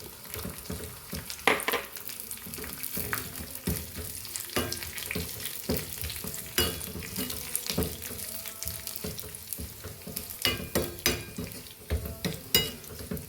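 Dried red chillies frying in a hot pan for a Kerala cucumber buttermilk curry, a continuous crackling sizzle with frequent sharp pops and stirring clatter, fairly close, with no talking.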